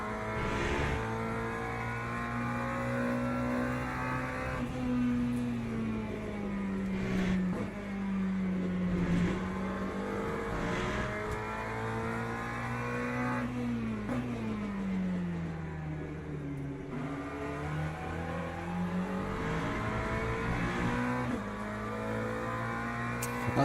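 A race car engine in the Le Mans Ultimate racing game drones and revs continuously, rising and falling in pitch through gear changes during an online multiclass race, steady and loud throughout.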